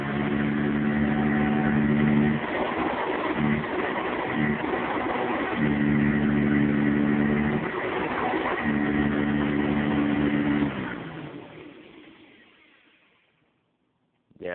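A Sanitaire vacuum cleaner runs with a loud, steady motor hum and whine that shifts in pitch as it works, then winds down and fades away before a brief final noise.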